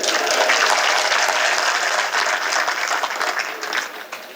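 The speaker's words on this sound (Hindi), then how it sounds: "ताली बजाना तो ढंग से बजाना" Audience at a Hindi poetry recitation claps loudly and continuously, a thick even burst of applause that tapers slightly toward the end.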